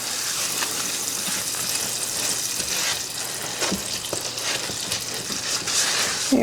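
A honey glaze for ham bubbles softly in a pot while it is stirred. A gentle, continuous sizzling simmer runs throughout, with occasional faint scrapes and clinks from the stirring and no speech.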